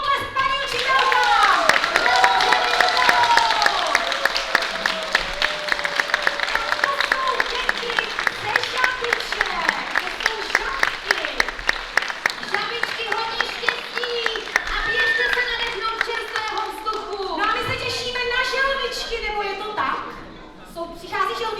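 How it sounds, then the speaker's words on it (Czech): An audience claps for a preschool teacher at a preschoolers' ceremony. Sustained, dense applause runs throughout, with children's voices and talking mixed in. "A obrovský potlesk, paní učitelka!"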